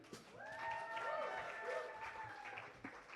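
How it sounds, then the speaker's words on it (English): Applause from a live music venue audience welcoming a performer, steady clapping with a sustained tonal sound over it, fading near the end under a bit of talk. "will you please put your hands together and give a massive round of applause"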